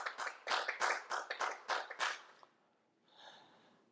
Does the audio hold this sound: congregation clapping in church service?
yes